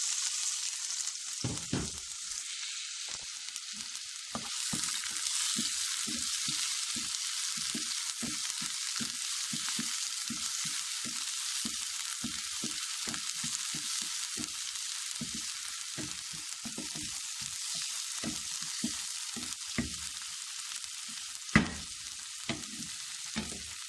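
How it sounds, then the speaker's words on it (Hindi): Onions sizzle and fry in hot oil in a kadai, a constant crackling hiss broken by repeated soft scraping stir strokes, close and steady with no talking. "हमने पहले से कढ़ाई में तेल गरम करने के लिए रख दिया। अब प्याज डालेंगे उसमें।"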